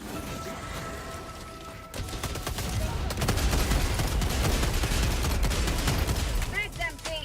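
Rapid gunfire and explosions from the Helldivers 2 video game, dense and loud after a quieter opening, with continuous shooting bursts layered over each other and brief voices mixed in.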